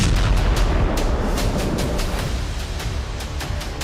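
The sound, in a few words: Israeli airstrike explosions on Syria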